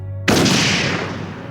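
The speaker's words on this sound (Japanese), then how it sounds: "銃声が一発" A single loud gunshot cracks out of near silence in an anime, followed by a long, fading echo with no voices.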